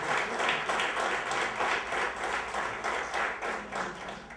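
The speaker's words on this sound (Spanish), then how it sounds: "fuerte el aplauso" Audience applause at a concert by a folk music duo in San Felipe, Chile, steady rhythmic clapping in unison that pulses evenly, fairly distant and moderately loud throughout.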